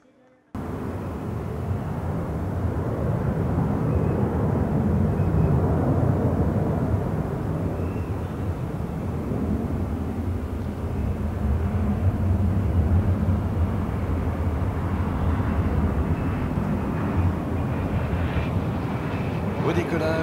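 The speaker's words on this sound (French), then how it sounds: "Au décollage, un avion de transport multimission de nouvelle génération" An Embraer KC-390 military transport plane takes off during the flying display at the 2019 Paris Air Show, a loud sustained engine roar that holds steady with crowd and announcer voices mixed in.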